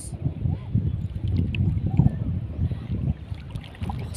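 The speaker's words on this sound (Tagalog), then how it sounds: "Lakas ng hangin." Strong wind blows steadily at sea, a continuous low roar and rumble buffeting the microphone throughout, with faint water sounds beneath.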